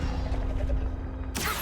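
A Confringo fire spell cast in Hogwarts Legacy lands as one sudden bright burst near the end, cutting through a steady low game-ambience hum with a faint held tone.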